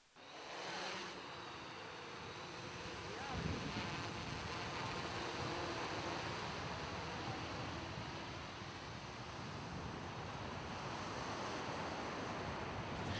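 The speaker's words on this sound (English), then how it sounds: "Let us observe Max at the beach with oblique waves, throwing some markers into the surf zone" Oblique ocean waves break steadily in the surf zone at a beach, giving a continuous broadband roar of surf mixed with wind buffeting the microphone, with no voices.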